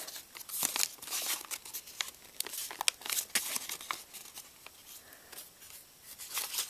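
Sheets of paper crinkle and crease as they are folded into an origami bird, with close, irregular rustles and sharp crackles.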